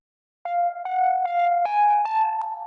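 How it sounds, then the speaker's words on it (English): A synthesizer plays a plain sine-wave tone as a run of six sustained notes that step upward, each starting with a soft attack and ringing steadily and loudly with no other sound. "Because if it's just a sine wave, it's going to sound like this."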